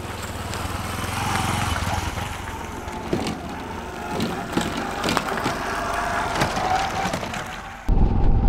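Engines of a Yamaha YBR125 and a Suzuki Birdie motorcycle drone continuously at moderate distance on a rocky mountain ride, with rough rumbling and occasional louder bursts, ending abruptly in a change of sound.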